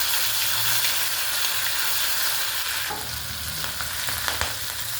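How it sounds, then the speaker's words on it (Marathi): Mustard seeds, cumin and a ginger-garlic-coriander paste fry in hot oil for a Maharashtrian Bhogi bhaji, a steady close sizzle with a burst of crackle and stirring near the end, no voices. "त्याच्यामध्ये मोहरी टाकायची सुरुवातीला नंतर जिरे आणि अद्रक लसूण आणि कोथिंबीरची पेस्ट केलेली आहे ती पण मध्ये टाकायची"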